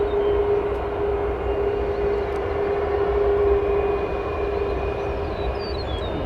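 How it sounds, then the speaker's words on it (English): Jet engines of a United Boeing 737 MAX in Continental livery at O'Hare, just arrived from San Juan on runway 10 right: a steady, loud broadband roar with a whining tone, continuous and fairly close, no talk. "We have a United 737 MAX making some good noise in the Continental livery."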